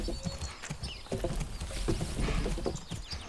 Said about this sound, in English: You can get the sound of the log moving.